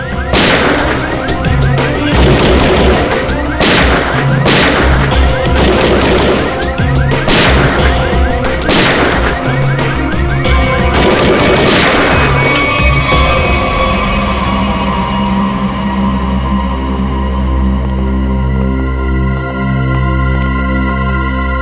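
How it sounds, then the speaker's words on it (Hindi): Loud bursts of gunfire, several heavy shots in quick succession, then a long ringing, decaying tone as the firing stops. "ये गोली कहां से चल रही?"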